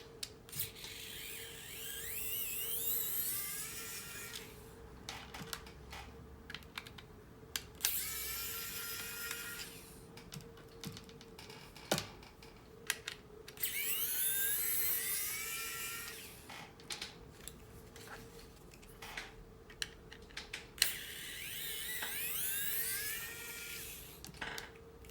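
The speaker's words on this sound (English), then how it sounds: "Little T8 bit for taking out these screws." A small electric screwdriver fitted with a T8 bit removes the screws from an Xbox One S controller, giving repeated short whirring bursts with rising and falling pitch, separated by quiet gaps and faint plastic clicks.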